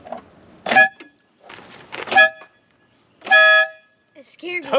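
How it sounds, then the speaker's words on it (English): Several loud honks from the horn of an old Fiat 124 Sport Spider left abandoned for years, sounded at a gas station. The bursts come in a broken series, each a few tenths of a second long, with voices talking between them. "we should test these horns out, shouldn't we?"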